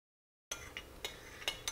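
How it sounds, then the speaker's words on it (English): A utensil stirring melted coconut oil, castor oil and vitamin E into hot wax for lip balm, a few light clinks and scrapes against the container after a brief silence. "I'm just stirring it up like this just to be sure that my vitamin E and my castor oil are all mixing well with the coconut oil"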